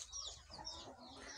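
Chickens cluck softly in a small urban farm yard in Kampala, a faint, low-level scratchy clucking with background ambience and no talk over it.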